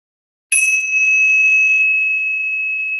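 A meditation bell, its body chewed by a dog, struck once and ringing out with a clear sustained tone that fades slowly, alone in silence.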